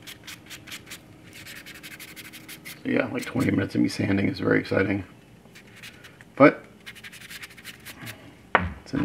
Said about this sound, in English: like 20 minutes of me sanding is very exciting